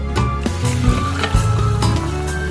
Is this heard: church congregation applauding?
no